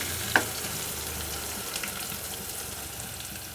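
Ginger garlic paste frying in a pan for a drumstick masala curry, a soft steady sizzle after a brief clack at the start, with faint scraping and clinks.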